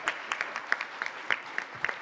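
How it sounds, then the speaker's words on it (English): Scattered hand claps from a modest conference audience in the ECOSOC Chamber, sparse and uneven, fairly quiet and distant. "A very big round of applause for all our speakers."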